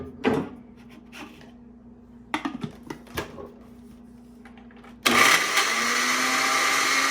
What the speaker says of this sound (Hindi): Grinding our breads, it turns out like this, something like this.